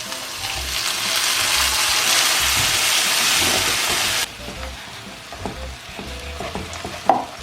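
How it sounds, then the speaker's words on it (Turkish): Spinach, milk and fried garlic hit a hot pan with a loud, dense sizzle that drops sharply after about four seconds into a quieter bubbling crackle with a few stirring scrapes. "Şimdi burada kızaran sarımsaklarla buluşturuyoruz."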